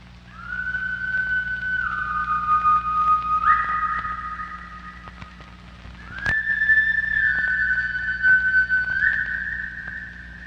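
Eerie whistled tones drift from a 1980s slasher film, a thin sustained melody that steps between pitches in long held notes, with a sharp click partway through and a low ambient hum beneath.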